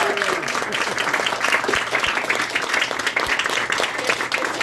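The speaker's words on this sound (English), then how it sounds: "Round of applause for Julia!" An audience at a museum talk applauds, continuous crowd clapping at an even, moderate level throughout, with faint voices blended into the noise.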